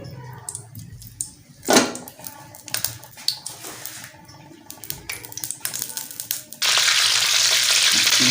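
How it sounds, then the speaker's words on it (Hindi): Ghee heating in a pan before boneless chicken goes in, scattered clinks and scrapes of utensils, then a loud steady sizzle taking over for the last couple of seconds. "घी हमारा गर्म हो गया है।"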